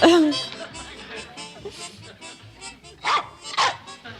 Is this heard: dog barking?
yes